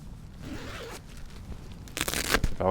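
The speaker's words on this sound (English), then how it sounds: "zips seem good, nice and smooth" Zipper on the door of a Night Cat two-person budget tunnel tent being pulled open, a quiet rustle followed by a louder, rasping zip run near the end, close up.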